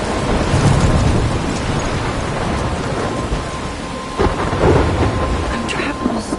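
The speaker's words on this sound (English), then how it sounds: "I'm trapped in a storm." Heavy rain pours steadily in a thunderstorm within the video game Life Is Strange, with low rumbling thunder rolling underneath and a couple of brighter crackling bursts near the end; no one speaks.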